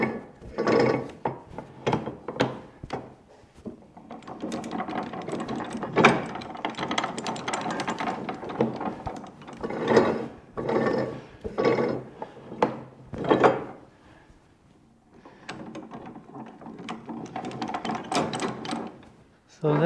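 The gear mechanism of an antique coach clicks and ratchets as it engages a drive sprocket in a coach shop, with intermittent mechanical clacks and someone talking over much of it.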